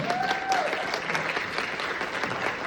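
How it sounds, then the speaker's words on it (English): Audience applause for student writers at a high school showcase: dense, steady clapping from a crowd filling the room, moderately loud and continuous throughout. "Let's give a round of applause for our writers."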